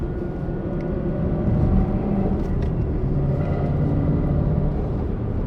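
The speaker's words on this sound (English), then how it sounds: "Sounds like one of those old classic muscle cars. It just has the big box mufflers." Twin turbo EcoBoost Ford Mustang S650 with big box mufflers running in quiet mode, a steady low rumbling exhaust drone that stays subdued and even throughout, with no talking.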